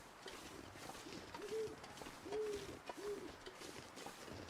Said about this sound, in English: now I'm just getting the wind and the owls